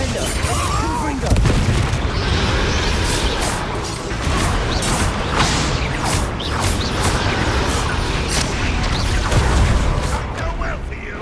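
Confringo spell blasts in the Hogwarts Legacy video game, a loud, dense run of booming explosions and crashing impacts that continues without a break, while a voice calls out spell names over the top.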